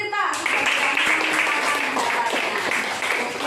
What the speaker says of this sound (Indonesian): Tepuk tangan untuk Tirta